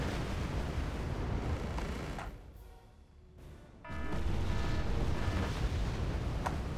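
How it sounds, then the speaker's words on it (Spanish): Minor bombardment in the war strategy game Wargame Red Dragon: a dense, continuous roar of rumbling explosions that eases briefly and then swells back loud, with no speech. "Vale, es un bombardeo menor."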